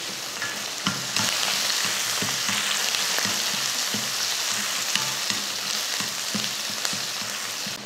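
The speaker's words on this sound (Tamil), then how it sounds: "இப்போ இதை நல்லா வதக்கி விட்டுறலாம்." Sliced onions, green chillies and curry leaves sautéing in a pan give a steady, dense sizzle, with soft periodic scrapes and stirring taps of a spoon throughout.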